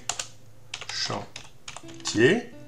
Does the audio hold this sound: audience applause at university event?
no